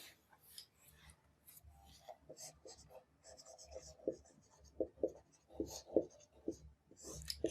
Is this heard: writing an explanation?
yes